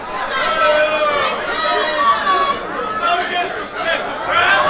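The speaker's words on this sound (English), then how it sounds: "the crowd is making more noise for Devon Shooter, but not necessarily cheering him. They're chanting Shooter rocks." A wrestling arena crowd chants and roars for Devon Shooter ahead of his match against Casey Ferreira, a loud, continuous mass of voices with rhythmic surges, close and enveloping.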